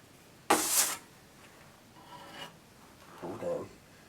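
A trowel scrapes and squishes drywall mud into an inside corner, with a sharp rasping stroke followed by softer, fainter smears and a final gritty scrape, close and alone.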